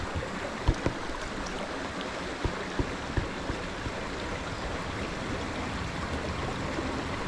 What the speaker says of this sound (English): The fast and loud water may well have provided a bit of cover for my stumbling through the water.